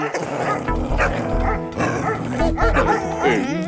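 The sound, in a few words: cartoon dog barking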